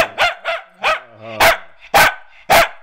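A dog barking indoors, six sharp close barks in irregular bursts, loud and alone with no talk over them.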